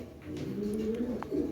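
Club racer pigeons coo steadily in a low, warbling murmur, a continuous close hum of calls with a brief sharper chirp near the end.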